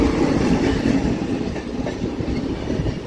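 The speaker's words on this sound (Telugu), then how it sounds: "వ్యాప్7 లోకోమోటివ్ వచ్చింది." A passenger train hauled by a WAP-7 electric locomotive rolls past on the Guntur–Macherla line, a loud, steady rumble of wheels and carriages with faint clickety-clack, continuous throughout with no talking.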